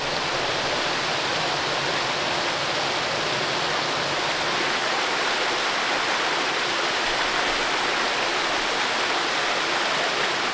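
A clear mountain stream flows beneath a tall rock wall, giving a continuous, loud, even rush of water with no voices.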